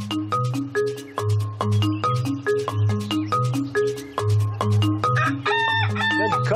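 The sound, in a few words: rooster crowing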